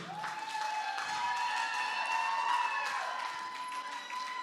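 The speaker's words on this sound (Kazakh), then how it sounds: "Шапалақ бәрі ұрса екен дейм ғой баяғы." Wedding guests clap steadily and continuously, a dense wash of applause at fairly close range, with music playing beneath it and some crowd noise mixed in.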